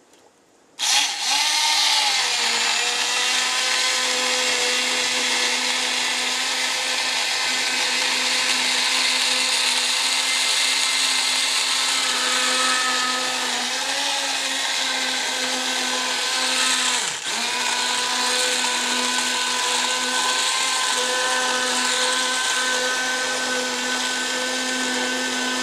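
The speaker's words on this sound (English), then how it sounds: "I'm just going to puree it. Now you can do it this way or you can use a blender." A blender purees jalapeno corn chowder. The motor kicks in after about a second, then whines loudly and steadily for over twenty seconds, with a couple of brief dips in pitch as the load shifts. No one talks.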